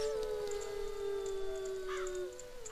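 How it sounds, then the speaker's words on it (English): A long, steady wolf howl in Zelda: Ocarina of Time holds one pitch, then bends downward, with faint wavering tones layered above; no talking. "I paused there because I heard the wolf howl"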